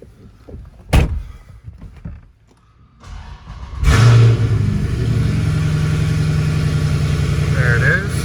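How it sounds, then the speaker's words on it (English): A car door thuds shut on a 2016 Dodge Challenger Scat Pack Shaker with Borla ATAK exhaust, then after a short pause the engine cranks and catches, settling into a steady, close idle hum. "we'll get in and we'll fire this one up"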